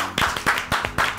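Audience applause welcoming a teacher at an event: a short burst of several rhythmic hand claps, fairly close and clear, with no talking over it.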